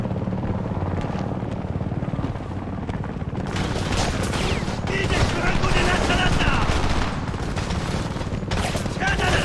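Heavy gunfire in the war shooter Homefront: sustained automatic bursts and sharp shots over a rumbling helicopter-like drone, loud and unbroken, with a shouted voice briefly cutting through.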